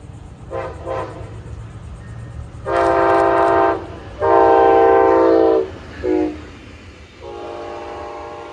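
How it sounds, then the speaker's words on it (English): A Brightline passenger train, number 701, runs southbound from Orlando to Miami on the FEC mainline, sounding loud, sustained horn blasts in several bursts over the rumble of the passing train. "The first train heading southbound is Train 701,"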